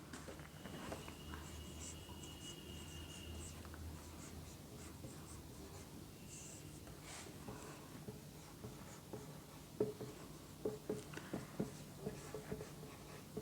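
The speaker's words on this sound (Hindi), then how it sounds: "पहला लिखती हूँ मैं, इसकी डेफिनेशन लिखती हूँ" Writing on a board during a Hindi grammar class comes through as faint scratchy strokes and small taps, growing busier toward the end, quiet and close, with no talking.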